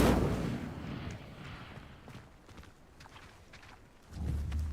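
A fire spell cast in the Hogwarts Legacy video game: a roaring, crackling burst that opens loud, thins into scattered flickers and faint crackles, then swells again into a second heavy rumbling blast near the end.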